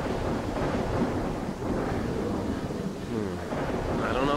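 Rain and thunder outdoors: a broad steady rumbling wash of falling rain with low rolling thunder, loud and continuous throughout.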